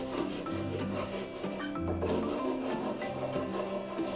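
A knife saws slowly through a layer of sponge cake, giving a close, steady rasping scrape in repeated strokes without talking.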